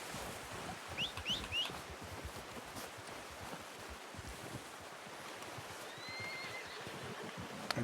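A horse in the Western video game Red Dead Redemption whinnies a few times early on, with faint hoof clops over a steady outdoor ambience of wind, birds and surf-like wash, no talking.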